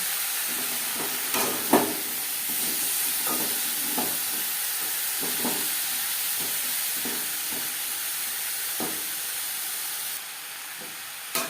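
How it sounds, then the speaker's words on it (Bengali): Eggplant pieces frying in oil with browned onions in a pan, a steady loud sizzle and hiss with scattered stirring scrapes throughout, no voices. "পেঁয়াজ লালচে করে ভেজে নেওয়ার পর দিয়ে দিলাম শুকনো করে কেটে রাখা বেগুন"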